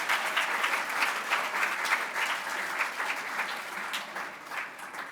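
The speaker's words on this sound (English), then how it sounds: "a big round of applause to our National Japan Bowl champions over there" An audience applauds the National Japan Bowl champions at the awards ceremony, a steady, dense round of clapping from a sizeable crowd that holds throughout without anyone speaking.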